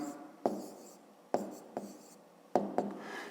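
A pen writes figures by hand while a maths exercise is worked out, making a quiet, close scratching with several sharp taps as strokes begin, in three short bursts.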